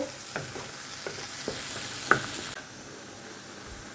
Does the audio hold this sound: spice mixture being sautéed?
yes